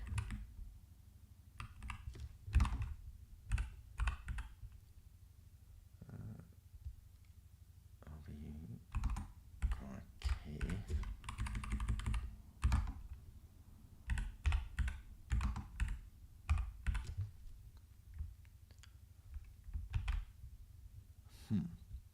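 Keys clatter on a computer keyboard during a live coding session, coming in quick bursts and short runs of clicks with soft spoken talk in between.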